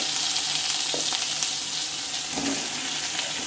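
Pointed gourd and papaya pieces frying in a little oil, a loud, steady, hissing sizzle with a couple of faint stirring scrapes, close up and with no voices.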